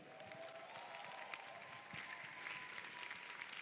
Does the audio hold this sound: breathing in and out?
no